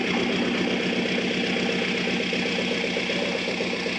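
A Volkswagen ALH TDI diesel engine, freshly fitted with a replacement injection pump, runs with a steady, loud mechanical clatter and low rumble throughout, close by and with no one talking.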